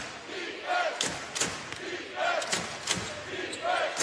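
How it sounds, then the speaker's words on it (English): Small but spirited crowd at a college basketball tournament game, cheering and shouting in repeated swells over a steady arena murmur, with a few thumps and a commentator talking. "It's not a big crowd, but they're spirited here tonight."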